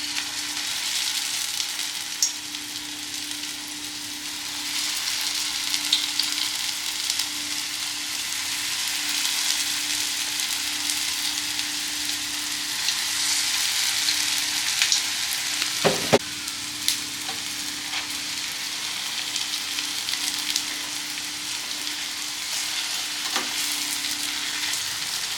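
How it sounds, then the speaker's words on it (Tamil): Egg puffs deep-fry slowly in hot oil on a low flame, a continuous close sizzle and crackle that lasts throughout with occasional small pops and no talking. "நம்ம வந்து ஸ்டவ்வை லோ ஃப்ளேமில் வச்சுட்டு இதை மெதுவாக பொரிச்செடுக்க வேண்டியதுதான்"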